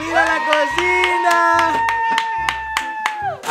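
A child claps hands several times in sharp bursts while excited voices talk over a bright, tonal background.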